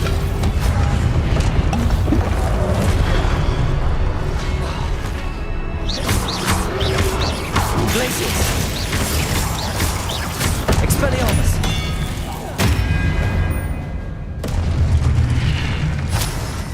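Spells cast in the Hogwarts Legacy video game, a series of loud booming blasts, crashes and crackling bursts in quick succession over constant game noise, with a voice calling out the spell names throughout.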